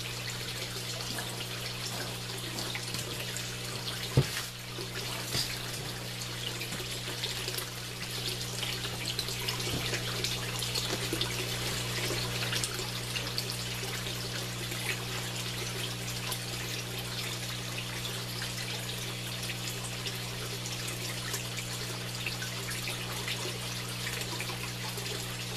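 Water pours continuously into an aquaponics fish tank, a steady splashing trickle heard alone and fairly quiet for the whole stretch over a low constant pump hum.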